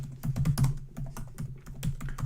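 Clacking computer keyboard keys as a search for kitchen gadgets is typed, a burst of close, fairly loud taps in an uneven rhythm, with a short lull midway and no voices.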